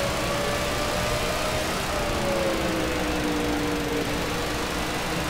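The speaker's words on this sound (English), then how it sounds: "Listen to my motor. Listen to that thing." In the NASCAR 2014 video game at Bristol Motor Speedway, a race car engine holds a buzzing, high-revving drone under a dense wash of rushing noise. The pitch sags slightly, then holds steady for several seconds without any talk.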